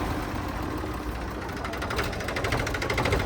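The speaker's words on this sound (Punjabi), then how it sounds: "ਆਵਾਜ਼ ਚੈੱਕ ਕਰੋ ਟਰੈਕਟਰ ਦੀ" A steady, loud Mahindra 275 DI tractor engine idles throughout with a rapid mechanical rattle and knocking rhythm, no voices present.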